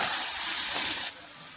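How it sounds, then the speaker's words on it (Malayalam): Coconut oil with mustard seeds and curry leaves sizzles in a clay pot on the stove, a loud, close hiss that drops abruptly to a quieter sizzle about a second in, with no talk. "ഒരു മൺചട്ടി അടുപ്പത്ത് വെച്ച് വെളിച്ചെണ്ണ കടുക് കറിവേപ്പില ഇട്ട് ചതച്ചത് ചതച്ചത് വിട്ട് ഇതിലോട്ട് ചേർക്കാം"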